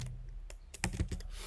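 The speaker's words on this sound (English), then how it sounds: "So the moment I start typing here" Quiet, close typing on a computer keyboard, with a short run of soft, uneven key clicks over a low background hum.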